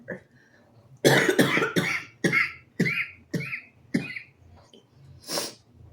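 A burst of harsh coughs, about eight in quick succession, close and loud, trailing off into a breath and a final sharp exhale.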